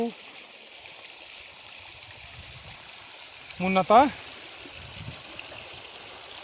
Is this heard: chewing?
no